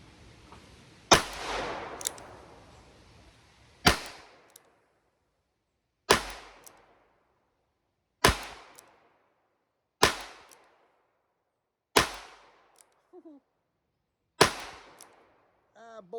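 A High Standard Sentinel Deluxe revolver fires six single-action shots, spaced about two seconds apart, each a sharp, loud crack with a short ringing tail, and quiet pauses between them.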